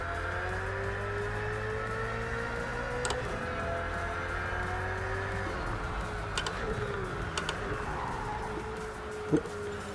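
A car in the racing game Project CARS 3 pulls away off the line, its engine note climbing through rising revs with gear changes, and a few sharp clicks and knocks sit over the steady game audio.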